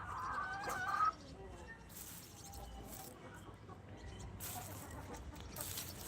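Hens cluck faintly in a poultry coop, with a few scattered calls over a low, steady background murmur.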